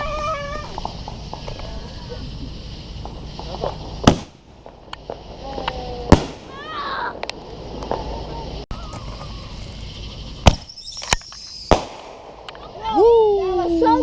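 Fourth of July artillery canister shell fireworks bursting outdoors, several loud sharp booms spaced seconds apart with crackling and whistling between them, while people talk and cheer nearby.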